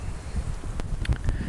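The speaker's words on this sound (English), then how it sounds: "It's pretty windy." Steady wind buffets the microphone in low rumbling gusts at an abandoned mine site, with a few faint clicks and rustles.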